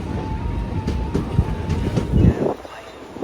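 A late-running special passenger train pulls into Vijayawada junction, its wheels clattering and rumbling close by with rail clicks and a faint hum before the noise drops away.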